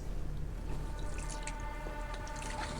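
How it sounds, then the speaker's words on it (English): Water in the Silent Hill 2 video game drips and trickles alone in a quiet, eerie space, with soft droplets over a faint steady hum and no voices. "running water noises briefly scared me"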